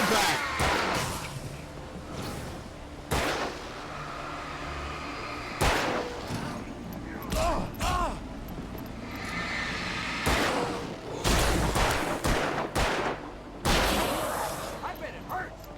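Gunfire in the video game Alan Wake, with repeated loud shots and thuds in bursts spread across the clip, mixed with other game sounds and a voice talking over the action.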